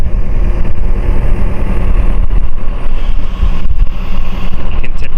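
A backhoe moving logs, its engine running with a loud, steady low rumble that stays close and constant, with only slight fluctuations throughout.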